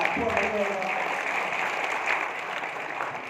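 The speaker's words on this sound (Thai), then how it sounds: "เอาขอเสียงปรบมือให้แผนการตลาดพวกนี้เลยครับ" An audience at a marketing presentation bursts into a short burst of applause, steady clapping filling the room and fading slightly over a few seconds, with someone speaking over it.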